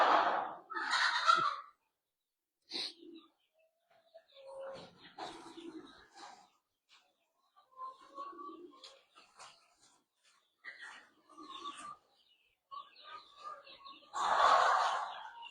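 Racing pigeons shuffle and coo inside a loft, with soft wing flutters and scattered bird calls coming in short bursts, a louder burst at the start and another near the end.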